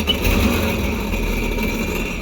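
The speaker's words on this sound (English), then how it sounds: "First start the engine." A Sea-Doo Spark Trixx jet ski engine runs steadily at a rough idle, a continuous low mechanical drone that stays close and fairly loud from start to end, with no voices over it.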